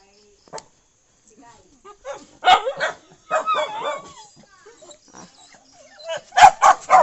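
A dog close by gives short yips, whimpers and barks in scattered bursts, with some louder barks near the end; no clear talking over it.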